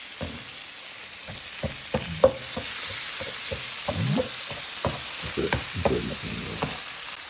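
Chopped cheese sizzles on a griddle as a metal spatula chops and scrapes through it, making a steady fry broken by irregular sharp taps and clacks, close and distinct with no talking.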